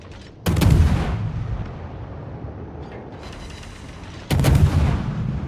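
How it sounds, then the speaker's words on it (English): Russian warship railguns firing in World of Warships: two heavy, booming salvos a few seconds apart, each a loud sudden blast with a long rumbling tail over steady ambient game noise. "at this range, you're able to still be pretty accurate with these guns"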